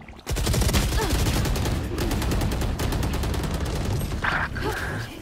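Rapid automatic gunfire from the video game Valorant, dense bursts of shots filling the clip with hardly a pause, loud and close, with a brief higher-pitched game effect near the end.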